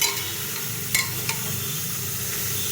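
Vegetables and pieces of papaya being stirred in a frying pan, a steady sizzle with a few sharp utensil scrapes standing out, close and moderately loud, no voices.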